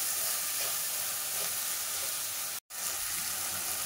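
Tomato pieces frying with ginger-garlic paste make a steady, close sizzling hiss with a brief total dropout partway through before the sizzle resumes.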